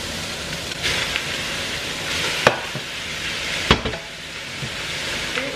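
Veal, onions and Bayonne ham sizzle steadily in a hot pan, a close, even frying hiss broken by a couple of sharp clinks and stirring scrapes.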